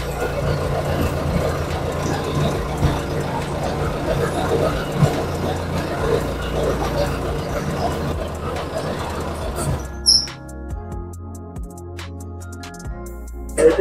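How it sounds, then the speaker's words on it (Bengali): A Changfa combine harvester engine rumbles loudly and steadily at close range for about ten seconds, then cuts to a quieter idle with scattered clicks and knocks. "এবার কিন্তু আপনাদের চাংফা কোম্পানির হারভেস্টার মেশিন স্টার্ট করে দেখাবো"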